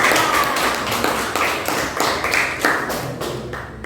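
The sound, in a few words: audience clapping for a student group in class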